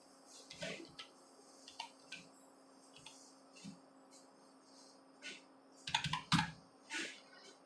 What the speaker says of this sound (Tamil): ஸோ இப்போ வந்து நான் வந்து பாஸ்வேர்டு வந்து டைப் பண்ணுறேன்.